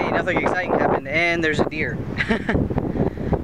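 Strong wind gusts buffet the microphone outdoors, rumbling and roaring under a man's close, continuous talking.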